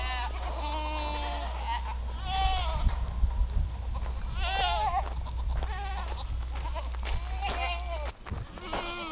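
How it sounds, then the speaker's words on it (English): Several goats bleat in wavering cries, near and loud, over a steady low hum while a person calls out between them. "Let's go, goats! Let's go, goats!"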